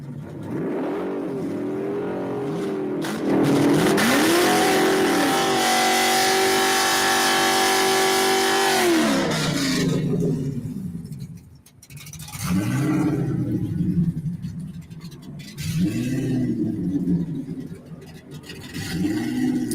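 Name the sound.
fast car engine revving and accelerating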